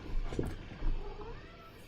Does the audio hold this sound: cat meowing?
yes